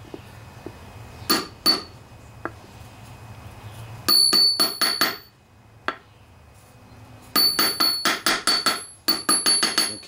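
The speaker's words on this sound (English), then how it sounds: "I use a big old socket here to just kind of start tapping it in place." A big metal socket taps a part into place on a Briggs and Stratton OHV Intek engine, giving sharp metallic clinks in quick bursts of several strikes separated by pauses.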